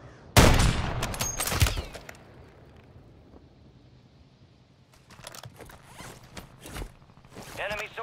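Gunfire in Call of Duty Resurgence on the Vondel map: a loud burst of shots up front, then scattered distant reports and rustling game noise, with further shots near the end.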